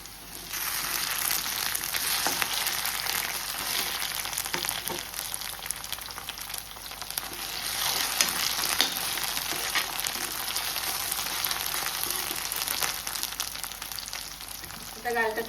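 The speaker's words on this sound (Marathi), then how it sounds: "तो कांदा मोव जालो. आता घालता तितून आले लसूण पेस्ट." Onion sizzles and fries in a pan as ginger garlic paste goes in, a continuous bright crackling hiss with occasional stirring scrapes, steady and close throughout.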